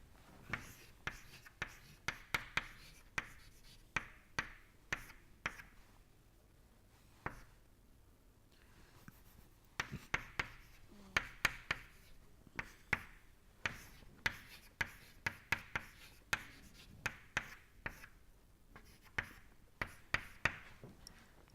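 Chalk or marker writing on a board during a thermodynamics lecture gives faint, irregular taps and short scratchy strokes in quick clusters, with brief pauses, throughout a quiet room.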